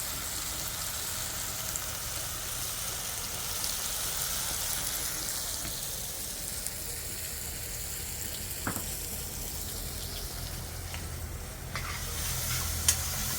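Garden vegetables and tomatoes sautéing in a pot, a continuous soft sizzle and crackle with an occasional light clink of stirring, steady and fairly quiet throughout.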